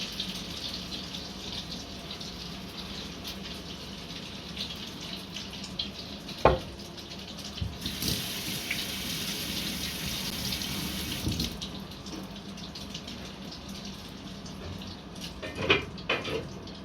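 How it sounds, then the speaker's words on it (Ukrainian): Tap water runs steadily into a kitchen sink next to a frying pan of fish roe, a continuous close wash with occasional light clinks of dishes and no talking. "Долила я водички."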